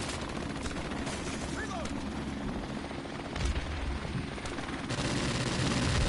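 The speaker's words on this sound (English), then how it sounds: "why is this thing shooting so fast? This is a DLC weapon" A DLC weapon in a video game fires continuous rapid automatic bursts, a dense rattling barrage at moderate level that intensifies toward the end.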